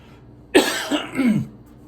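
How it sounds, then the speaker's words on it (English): A close, loud burst of coughing, three hacking pulses in quick succession, then quiet. "excuse me, I got a cough a minute."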